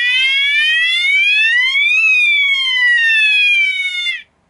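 Alarm siren of an anti-theft trainer unit, a loud, close electronic wail that sweeps upward and then back down in pitch before cutting off abruptly, sounding alone.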